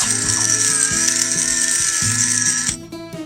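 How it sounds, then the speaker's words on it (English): A pepper grinder cranks out black pepper for gravy seasoning, a loud, close, continuous ratcheting grind lasting nearly three seconds before it stops abruptly, leaving a faint hum. "and some freshly ground black pepper"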